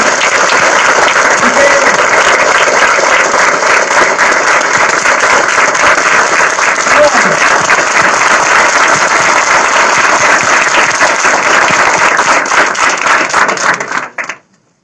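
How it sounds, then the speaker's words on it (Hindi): Loud, dense applause from a large standing audience at a Kargil Diwas event, sustained steadily for about fourteen seconds before cutting off abruptly. "एक बार जोरदार जोरदार तालियां वापस"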